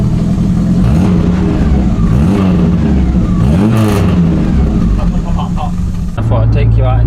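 A VW Golf Mk2 engine revs from inside the car, loud and close, rising and falling in pitch through several throttle blips over a constant drone.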